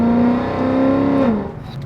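A Mercedes CLK63 Black Series V8 revs up to about 3,500 RPM, a loud, close engine drone that climbs steadily in pitch and then drops away as the throttle is released.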